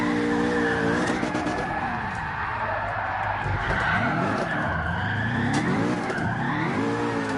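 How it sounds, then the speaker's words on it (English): Tires skid and squeal continuously on a car in Gran Turismo Sport after a clutch kick, with the engine droning and shifting pitch underneath, loud and steady throughout. "dropping a clutch kick like that"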